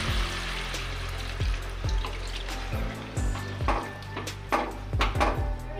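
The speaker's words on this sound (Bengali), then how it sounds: "এবার আমি পরিমাণ মতন জল দিয়ে নেব।" Water poured into browned, slow-cooked chicken curry for a Dak Bungalow chicken curry, a steady wet splashing and bubbling with soft knocks of a pot or spoon, close and alone with no talk.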